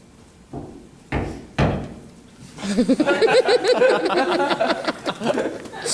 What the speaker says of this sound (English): he hears a knock at the door